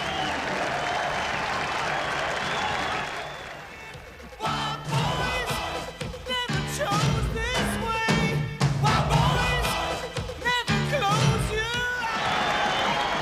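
Some 8,000 football supporters on their feet at Turners Cross applaud Cork City at half-time against FC Nantes: a dense, sustained wall of clapping and crowd roar with scattered whoops and shouting voices, loud and enveloping throughout.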